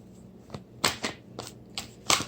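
Tarot cards being shuffled by hand, giving several quick papery riffling bursts in an uneven rhythm, close and moderately loud with no talking.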